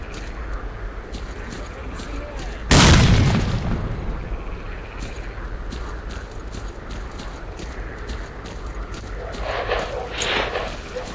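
A single loud grenade blast from the video game S.T.A.L.K.E.R.: Clear Sky booms near the start and decays over a couple of seconds, set within continuous game ambience and scattered small clicks.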